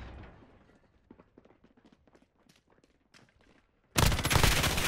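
Call of Duty Modern Warfare gunfire in bursts: scattered close shots and sharp cracks for about four seconds, then a sudden loud sustained barrage of rapid automatic fire to the end.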